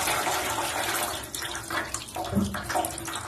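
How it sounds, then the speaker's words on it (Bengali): Cold water runs over boiled chow mein noodles as they are rinsed, a close steady splashing flow with shifting gurgles and sloshes, heard alone without talk. "তো আমি সিদ্ধ করার পর একটু ঠান্ডা জল দিয়ে অবশ্যই ধুয়ে নিতে হবে"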